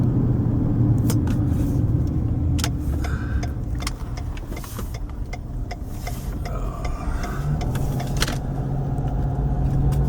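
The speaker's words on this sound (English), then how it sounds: "Driving on Polk Street." A car drives along Polk Street in Aliquippa, Pennsylvania, with a steady low road rumble and engine hum running throughout, plus scattered light rattles and jingles from inside the vehicle.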